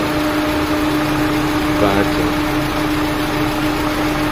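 A Peugeot 206 with a manual gearbox idles with a continuous, steady drone, close by, while someone briefly talks over it.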